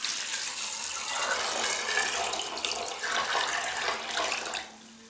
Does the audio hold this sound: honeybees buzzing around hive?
no